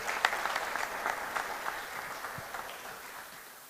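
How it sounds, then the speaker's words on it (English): Steady, fairly faint applause from a conference audience welcoming a speaker to the stage at an entrepreneurs' event, a dense patter of many hands that slowly fades. "Let's give her a round of applause as she comes up"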